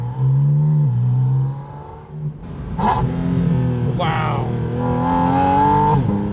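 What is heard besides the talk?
Porsche 718 Spyder RS engine revving loudly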